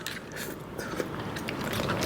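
Close crunchy chewing of cockles in Thai papaya salad with rice noodles, a run of crisp bites and grinding over about two seconds, with no talking.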